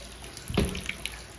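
Tap water runs while clothes are washed, a short close splash and gush, with a few trailing drips.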